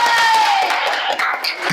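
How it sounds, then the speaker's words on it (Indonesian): Short burst of audience applause and cheering in a group class, with noisy clapping and a few raised voices mixed together. "kasih apresiasi dengan tepuk tangan"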